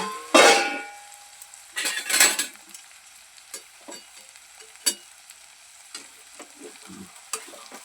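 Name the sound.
onion being sautéed in a pan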